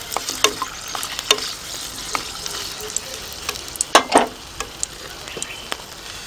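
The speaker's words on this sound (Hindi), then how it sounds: "2 लहसुन, लहसुन को काफ़ी अच्छे से मिला लेंगे तेल के साथ।" Garlic and whole dried red chillies sizzle and crackle in hot oil as they are stirred in a pan for a mutton curry. A steady soft fry runs underneath, with sharp pops and a brief louder scrape of stirring, close up and without talk.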